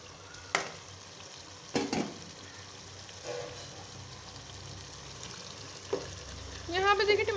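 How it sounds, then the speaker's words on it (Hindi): Tomato masala frying in a pan gives a low, steady sizzle with a few spoon knocks and stirring scrapes, close by and fairly quiet, with a brief voice-like sound near the end. "अब ऐसा करते हैं इस मसाले को हम फ्राई कर लेते हैं"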